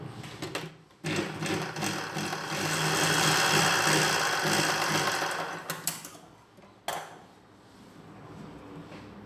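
A sewing machine runs a steady stitch along the folded-in hem of a nighty, one sustained buzzing run in the middle, broken by short bursts before and after, close up with no talking.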